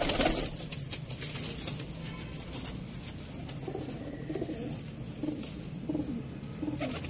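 Breeder pigeons coo softly in a steady, overlapping murmur, with occasional rustling close by and no talking, in Sialkot.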